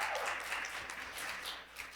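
An audience at a live university talk applauds in a steady, dense wash of clapping that sounds somewhat distant and continues evenly for a couple of seconds.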